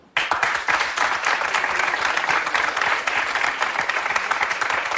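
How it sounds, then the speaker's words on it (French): Studio audience at a French television show bursts into vigorous applause, dense rapid clapping starting abruptly and holding strong and even for several seconds. "Ceux qui pensent que Jennifer doit rester comme elle est, vous applaudissez maintenant."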